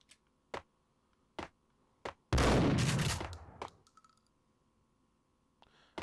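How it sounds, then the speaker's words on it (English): Explosions and gunfire in the Max Payne video game: sharp isolated shots spaced a second or so apart, then one loud roaring blast that fades over about a second, with more scattered shots after. "When in doubt, literally just explosions everywhere."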